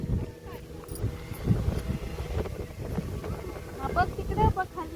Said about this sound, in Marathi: तेव्हा बोट चालले बघ.